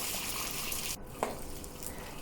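Fish fries in a wok of oil for sweet and sour fish, giving a soft continuous sizzle with a brief clatter and a small splash-like pop as it shifts in the pan, without talk.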